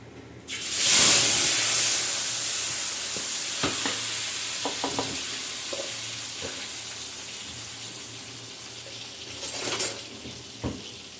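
Ground masala hits hot oil with a sudden loud hiss that swells and then slowly settles into a steady sizzle, punctuated by several metallic stirring clinks and scrapes, with another burst of hiss near the end.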